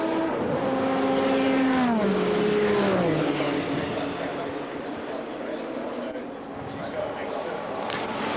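Group C Lancia and Porsche race cars on the Mulsanne straight at Le Mans during the 2004 Le Mans Legends race, a loud engine whine that falls in pitch as the cars go by, under continuous commentary.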